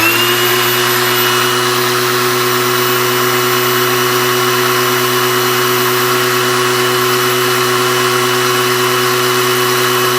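A DCA ADSM06-125 angle grinder spins freely at full speed, giving a constant, loud, even whine with steady tonal hum and no load changes, running alone throughout.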